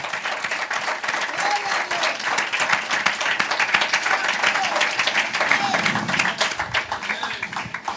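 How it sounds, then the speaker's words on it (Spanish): A church congregation claps steadily through a sermon, a dense, sustained wash of hand claps with cheering voices mixed in. "strong applause to God that lives."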